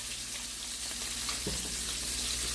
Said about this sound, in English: In this pot, we're going to add in some butter.